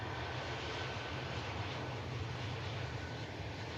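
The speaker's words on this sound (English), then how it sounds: "Using idle reverse there, rolling the aircraft out." Aircraft at Manchester Airport rolling out using idle reverse, a steady, distant jet engine roar with a low rumble, continuous and even throughout, no talking.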